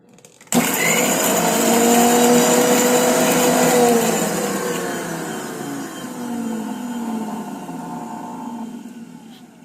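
A mixer grinder starts abruptly and whirs loudly for a few seconds, grinding mango, chilli and salt, then its pitch falls and fades as it spins down.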